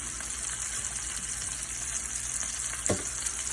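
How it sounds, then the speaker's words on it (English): Largemouth bass fillets cooking in a pan, a soft even sizzle heard close with one brief louder splash or hiss near the end, no voices. "So then we're going to cook these."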